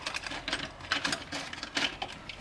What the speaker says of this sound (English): my presser foot is going up at an angle and it's trying to sew at